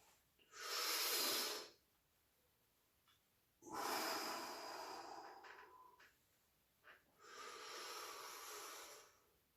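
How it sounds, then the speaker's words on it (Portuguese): Slow, controlled breathing done as an anxiety-control exercise, filling the belly like a balloon: three long, audible breaths taken one after another with pauses between, close and alone. "Essa é a respiração de controle da ansiedade."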